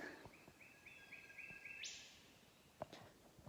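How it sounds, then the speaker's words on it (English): A single bird sings a quick rising series of bright notes ending in a sharp trill, faint in quiet forest air, followed by an isolated chirp. "there's bird life, which you can hear if I just be quiet"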